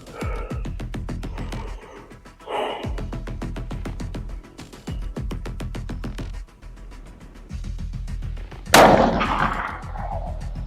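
A single loud rifle shot fired from a braced position at a distant target on a shooting range cracks out sharply near the end, after a stretch of steady low background.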